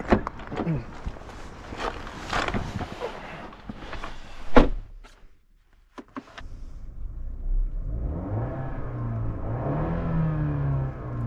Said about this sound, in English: being a petrol 4-cylinder car, why don't we just give it a start up and some revs?